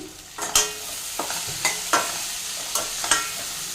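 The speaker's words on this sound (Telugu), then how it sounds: "ఒకసారి మూత తీసి కలుపుదామండి." Okra for a Telugu bendakaya curry stirred in a sizzling pan after the lid comes off, a few distinct scraping stirs over a continuous fry hiss, close up with no voices.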